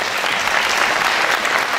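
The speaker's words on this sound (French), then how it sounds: "la candidate numéro 1 que je vous demande d'applaudir bien fort" An audience at the Miss Aisne 2017 pageant applauds candidate number one, with dense, loud, sustained clapping from a large crowd throughout.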